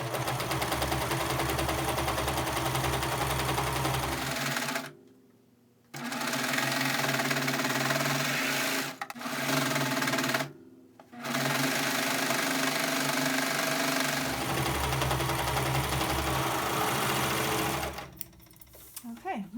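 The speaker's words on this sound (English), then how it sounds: "I'm going to use the serger." A serger stitches around three sides of a t-shirt, a loud, fast mechanical whir running in long bursts, stopping briefly twice, then ending near the close.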